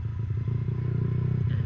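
A Yamaha XSR 155 motorcycle riding over a rough mountain road, its engine a close, steady low rumble with faint rattling throughout.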